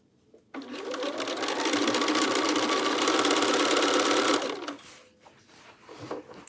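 A sewing machine runs steadily for about four seconds, loud and close, as it stitches binding around the hood of a quilted Tamarack jacket, then slows to a stop, with a few soft handling clicks afterward.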